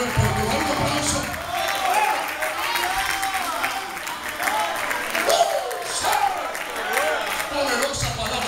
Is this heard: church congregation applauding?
yes